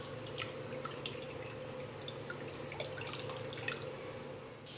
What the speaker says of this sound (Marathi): हे कारले आपल्याला पिळून घ्यायचे आहेत व्यवस्थित.